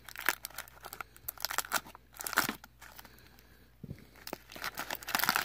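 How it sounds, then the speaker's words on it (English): Beyblade Burst random booster packaging being ripped and torn open by hand, with close, irregular crinkling, crunching and tearing bursts that come and go. "I'm going to rip that up a bit."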